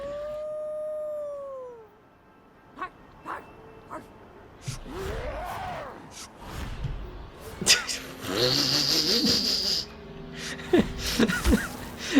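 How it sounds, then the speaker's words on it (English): Eerie wolf-like howl in Dishonored 2, a drawn-out wavering cry rising and falling, with a shorter howl later, set among quieter game sounds and footsteps. "Somehow that's much more scary to me than an actual wolf howl."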